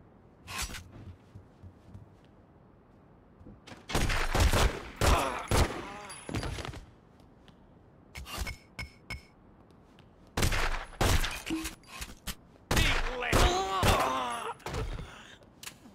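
Gunshots in a mafia video game, sharp bursts and heavy impacts in several loud clusters separated by quieter gaps, with voices mixed in.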